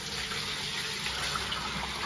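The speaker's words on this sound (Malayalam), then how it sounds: "അപ്പൊ അടുത്ത് അതിനകത്ത് വെള്ളമൊഴിച്ച്" Water is poured into a steaming pot set up for steamed palm-leaf appam, a continuous even gushing and splashing at moderate level with no pauses.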